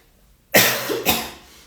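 Two sharp coughs close to the mic, a strong first burst followed by a second shortly after, with quiet before them.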